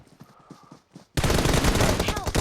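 Gunfire in the mobile battle royale game PUBG Mobile, quiet footsteps and game noise suddenly giving way to loud rapid bursts of shots that continue to the end.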